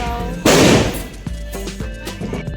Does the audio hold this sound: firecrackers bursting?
yes